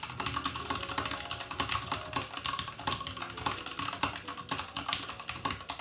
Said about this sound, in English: So this is the Anne Pro 2 wireless mechanical keyboard. I personally think it feels and sounds incredible to use.